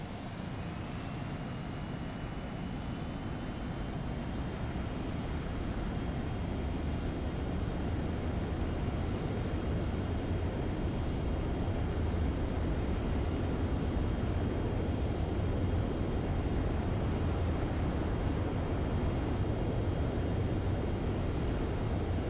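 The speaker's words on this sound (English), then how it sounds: "Spare 15, you are cleared for takeoff." A jet aircraft in Ace Combat 7 spooling up for takeoff, a broad steady roar with a thin high whine that slowly builds in loudness over about twenty seconds, with no voices.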